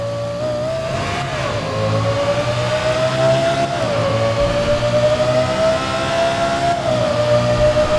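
Lexus LFA engine in GTA 5 revving hard inside a tunnel, a loud sustained high-pitched wail that climbs and dips with gear changes, echoing with steady low rumble underneath, no talk.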